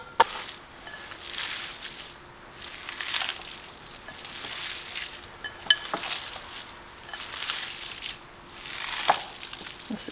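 Chopped onions and peppers are stirred into a warm pan for meatloaf, giving soft scraping and shuffling with a faint, low sizzle, quiet and unhurried, with no talking.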